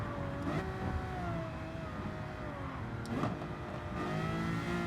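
Lamborghini Murcielago LP640 engine in a racing video game, a steady mid-pitched engine drone with rising revs and a couple of sharp crackling bursts near the middle and end, loud and close with no talk.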